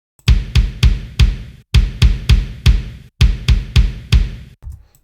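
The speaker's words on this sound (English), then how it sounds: "here's the kick sound that I used" A punchy raw kick drum sample for a song recreation thumps about a dozen times in quick, uneven groups, each hit loud, close and deep with a short decay, and no other sound around it.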